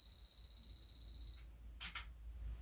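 A camera's self-timer, set for about three seconds while photographing artwork, emits a continuous high-pitched electronic tone that stops suddenly, followed moments later by a brief soft shutter burst, quiet and close, with no speech.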